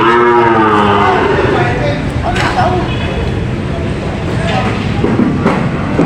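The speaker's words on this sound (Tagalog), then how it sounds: "Mga binibentang kalabaw." Water buffalo low and moo amid a busy, noisy crowd of voices at a livestock market in Padre Garcia, Batangas, with animal calls rising over steady chatter throughout.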